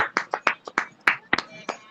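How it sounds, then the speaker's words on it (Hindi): Loud clapping in thanks to God at a women's fellowship prayer meeting: about a dozen sharp, close hand claps in a quick, slightly uneven rhythm. "लिए वचन के लिए हम ऊंची ताली देके प्रभु को धन्यवाद देंगे"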